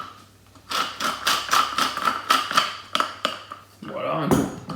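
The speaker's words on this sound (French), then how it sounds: "on va mettre un tour de moulin" A pepper mill grinds over an asparagus salad dressing in a rhythmic series of crisp, ratcheting bursts, close and fairly loud, followed by a short clatter. Speech may be faintly present.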